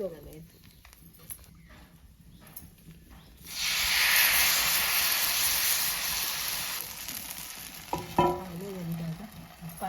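A ghavane rice pancake fries on a hot oiled pan, breaking into a loud bright sizzle partway through that holds and then eases, with a spatula scraping as it is flipped and someone talking before and after.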